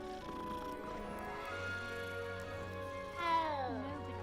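A cat in Hogwarts Legacy gives a short rising-and-falling meow over quiet game background music, heard alone and fairly clear.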